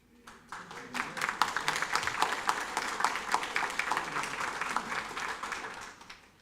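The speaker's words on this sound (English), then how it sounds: "if we could keep the applause, if we could refrain from doing that so we can move forward with the agenda" Audience applause fills a county council meeting room, a steady wash of many hands clapping that swells quickly and holds for several seconds before tapering off.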